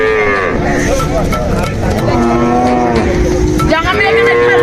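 Cattle moo repeatedly and loudly close by, long drawn calls overlapping amid a busy, noisy background with some voices.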